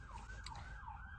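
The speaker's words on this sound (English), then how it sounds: "every time me and my mom hear sirens, we pray" An emergency vehicle siren wails in a steady rising and falling sweep, sounding distant and fairly faint over a low background rumble, with no talking.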